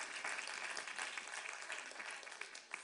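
Steady applause from an audience at a symposium keynote, a dense wash of clapping that keeps going at an even level for the whole stretch, with a few louder claps near the end and no voices heard.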